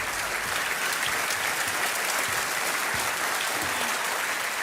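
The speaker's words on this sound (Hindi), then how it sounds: "तालियां बजती रहें इनके लिए।" Studio audience on the KBC quiz show clapping for a contestant, a continuous, even wash of applause from a large crowd at moderate level, no voices over it.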